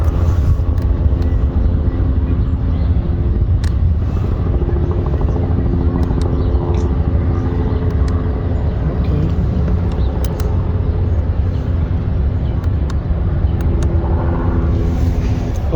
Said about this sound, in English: now let's turn on electric air pumps